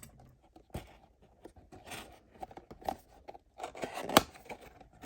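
Small scissors snip and crunch through plastic action figure packaging in a quiet room, a series of close, sharp irregular cuts and crinkles with a louder snap near the end.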